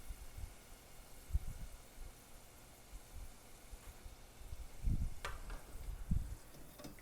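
Chilies fry in hot oil with a soft, steady sizzle, and a few dull knocks and clatters from a utensil and pan break through it, all fairly quiet.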